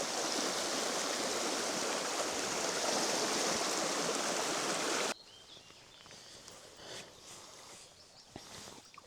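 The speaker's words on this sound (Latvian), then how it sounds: "Tāds ūdenskritums." Waterfall on a small, fast river, a loud, steady broadband roar of rushing water for about five seconds, then cutting abruptly to a much quieter stretch of flowing water.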